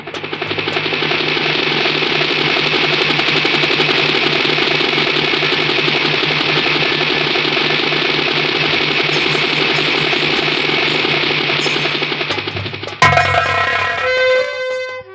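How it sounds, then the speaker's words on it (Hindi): A helicopter engine drones loudly and steadily for about thirteen seconds, then cuts off abruptly and gives way to a brief, different mechanical clatter. "रुक जा मेरी हेलीकॉप्टर, अब आ गया हूँ हवाई अड्डा।"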